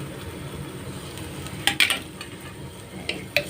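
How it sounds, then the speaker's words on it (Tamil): Ginger garlic paste sizzles steadily in a pan of frying masala for a side dish, with a few soft clinks of a spoon stirring it and no voices. "இப்போ இதில் இஞ்சி பூண்டு பேஸ்ட் போட்டுக்கலாம்"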